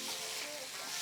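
Thai drunken noodles stir-fry in a hot pan with a steady, close hiss of sizzling that holds evenly throughout, no voice over it.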